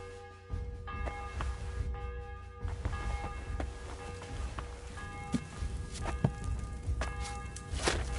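A bell in Kingdom Come Deliverance 2 rings in repeated, sustained strikes over a busy backdrop of footsteps and ambient game noise, moderately loud throughout.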